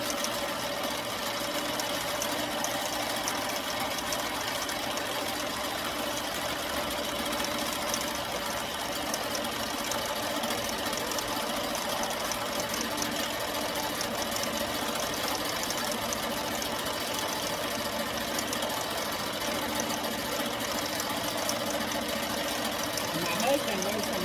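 An embroidery machine stitches an Etsy order, producing a steady, continuous mechanical hum and rapid needle chatter at constant loudness, with someone talking over it.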